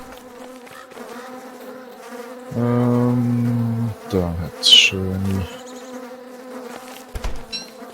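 Bees buzz in the video game Don't Starve Together, several loud droning swells over soft background game music, with someone briefly speaking Swiss German.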